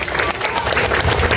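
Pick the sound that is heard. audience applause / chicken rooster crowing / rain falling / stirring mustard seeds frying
audience applause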